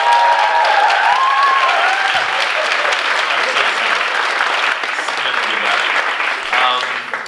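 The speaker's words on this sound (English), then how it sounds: "So if we could get a raucous round of applause for that" Raucous, sustained applause from a concert crowd at a charity show, dense clapping filling the whole stretch with some cheering and voices mixed in, easing slightly near the end.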